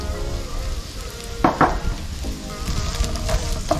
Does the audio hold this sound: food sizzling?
yes